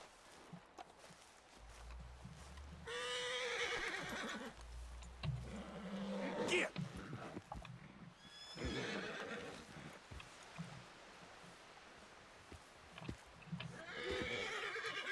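A horse in the Western video game Red Dead Redemption 2 neighs and whinnies several times, with clip-clop hoofbeats and snorts between the calls, fairly close and moderately loud.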